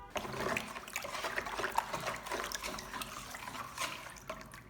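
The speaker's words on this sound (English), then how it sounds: "Add a little salt and dissolve it completely in the water." Water sloshes and trickles in a basin as salt is stirred in and dissolved by hand. The liquid swishing and splashing continues steadily and moderately quietly, close by, with no talking.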